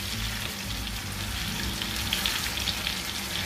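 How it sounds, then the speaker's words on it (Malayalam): Chicken frying in butter over a medium flame gives a steady, soft crackling sizzle with occasional louder pops, heard close and alone. "ഒരു മീഡിയം ഫ്ലെയിമിൽ ഇട്ടിട്ട് വേണം ഇത് ഫ്രൈ ചെയ്യാൻ വേണ്ടിയിട്ട്"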